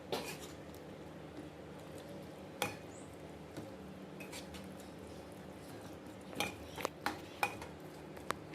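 Chicken being stirred with chili powder in a pot, heard as faint, sparse clinks and scrapes of a spoon against the metal, with quiet stretches between the taps and no talking.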